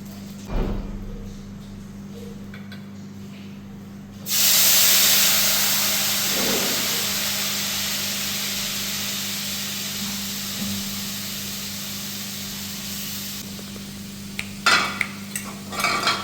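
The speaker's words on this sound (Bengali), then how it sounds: "মশলা দিয়ে দিয়েছি এখন মশলাটা কষিয়ে দেবো হালকা করে" Spices hiss and fry loudly in a pan for fish curry after a sudden sizzling burst, settling into a steady close hiss with occasional stirring and utensil clinks near the end.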